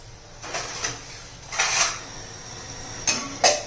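A lid set onto a cooking pot of simmering suran (elephant foot yam) curry: a few short metallic clanks and scrapes, close and fairly loud, with nothing else heard.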